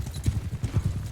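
Horse hooves galloping in the Mount & Blade II Bannerlord video game: a steady, rapid clip-clop rhythm of hoofbeats, moderately close and even, with no talk over it.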